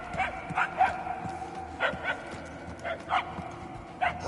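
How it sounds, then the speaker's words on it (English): Small dog yapping in a Guardians of the Galaxy game scene, repeated bursts at a middling distance over a busy, textured game background. "The yapping is getting louder."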